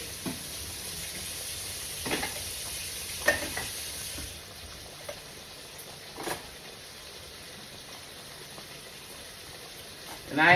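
Seasoned cube steaks fry in a pan over medium heat, giving a faint, steady sizzle with a few soft clicks and taps, no talking.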